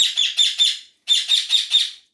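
A bird gives two quick bursts of bright, chirping calls, three to four notes each, separated by a short pause, fairly close and clear against a quiet indoor background.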